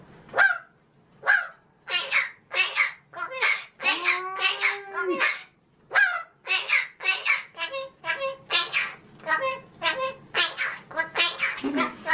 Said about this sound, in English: Pi the talking magpie